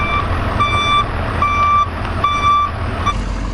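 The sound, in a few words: portable toilet rental truck reversing with beeps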